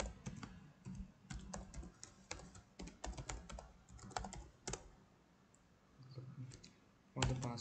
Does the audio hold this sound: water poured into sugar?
no